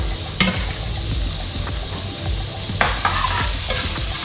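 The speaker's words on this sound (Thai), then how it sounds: "เราจะใส่ กระเทียมพริก แล้วก็รากผักชีไปก่อนนะครับ คั่วกับน้ำผัดกับน้ำมันให้หอมหอม" Garlic, chili and coriander root stir-fry in hot oil for a Thai beef dish, a loud continuous sizzle with scraping stirs and occasional clanks of a utensil against the pan.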